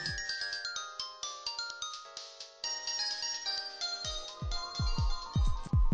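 A cell phone carried by a security guard rings with a bright, repeating electronic melody, close and clear, ending in a run of punchy plucked notes.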